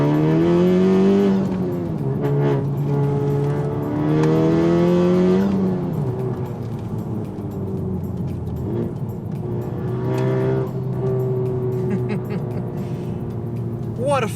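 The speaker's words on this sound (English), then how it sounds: "the incredible Remus exhaust sounds really good on this thing, especially with a catless downpipe." A modified Honda Civic Type R FK8 with a turbo-back Remus exhaust and catless downpipe revs and pulls through gears, its engine note rising and falling in long sweeps up close, with someone talking over parts of it.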